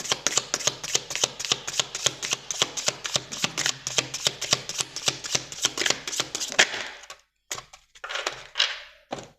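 Oracle cards shuffled and drawn by hand, a rapid run of crisp riffling flicks for about seven seconds, then a brief pause and a few softer card slides.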